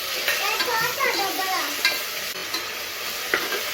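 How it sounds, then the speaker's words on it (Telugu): Ginger garlic paste frying in a pan for bagara rice, with a constant bright sizzle and occasional stirring scrapes close up, and a faint voice briefly underneath. "అల్లం తెల్లగడ్డ పేస్ట్ వేసాము, వేగింది."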